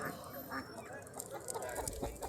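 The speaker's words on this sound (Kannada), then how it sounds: "ಇದು ನಾಟಿ ಕೋಳಿ ನಾಟಿ ಕೋಳಿ ಆರುನೂರು ರೂಪಾಯಿ ಇದೆ" Country chickens cluck faintly amid a noisy, bustling poultry market in Chandapura, with indistinct voices and clatter.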